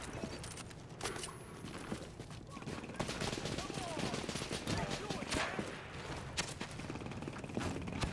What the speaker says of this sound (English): I'm blocking the bullets with my shield.